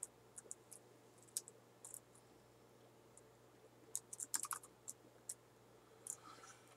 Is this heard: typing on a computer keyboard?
yes